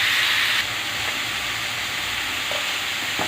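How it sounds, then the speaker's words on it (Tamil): Onion and garlic sizzle steadily as they are sautéed in a pan, a loud continuous frying hiss that fills the whole clip, with faint stirring clinks near the end. "இப்போ வந்து வெங்காயம் வதங்கிட்டதுக்கப்புறம் பூண்டு கொஞ்சம் சேர்த்து வதக்கிடுவோம்."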